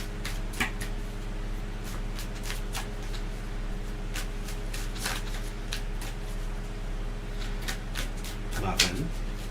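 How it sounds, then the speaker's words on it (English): Tarot cards being shuffled by hand in a steady run of soft riffling and slapping bursts, with a constant low hum underneath and a louder clack near the end. "we're going to start shuffling for you"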